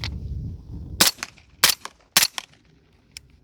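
A DeadAir Wolfman suppressor fires Freedom Munitions Hush subsonic rounds, several sharp muffled shots spaced about half a second apart with short mechanical clatter after each, close by, with no talking.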